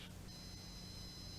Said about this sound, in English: Press and hold the clear test button until the alarm sounds.